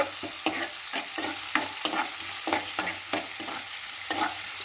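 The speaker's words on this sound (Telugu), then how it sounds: "కొంచెం లైట్గా ఫ్రై అయ్యే వరకు" Boiled eggs frying lightly in a pan for curry, stirred with a spoon: a steady sizzle carries sharp clinks from the utensil striking the pan at a fairly regular pace, close up and with no talk.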